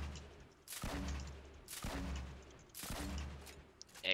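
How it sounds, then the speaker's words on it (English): Three heavy blasts of gunfire or explosions in a video game, each a sharp boom with a rumbling tail, spaced about a second apart. "Explosions."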